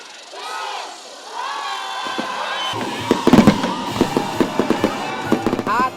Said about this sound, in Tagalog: at makukulay na fireworks show, sinalubong ng ilang Metro Manila LGU ang 2023